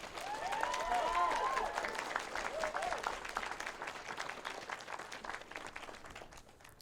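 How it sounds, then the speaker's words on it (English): Applause for a middle school's advanced orchestra at an outdoor groundbreaking ceremony, a dense crowd clapping that swells early and then slowly thins, with a few scattered voices mixed in. "Let's give a big round of applause to the Advanced Orchestra."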